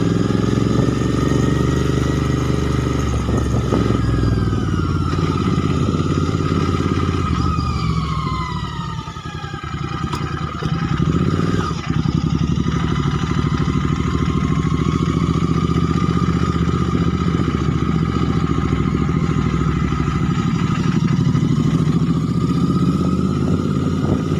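A motorcycle is ridden fast along a road in India, its engine giving a steady, continuous drone with a sustained tone for the whole stretch and a brief dip partway through, with no talking.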